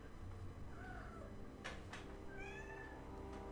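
A domestic cat meows in protest, several drawn-out tonal cries in close succession over a steady low background hum in a game setting.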